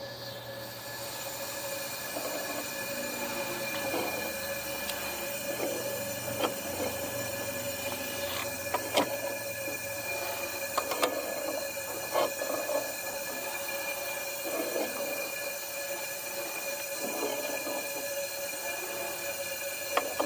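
A Soule steam engine running on compressed air, a steady mechanical whir with a high hissing whine of escaping air and irregular faint clicks and knocks throughout, no talking.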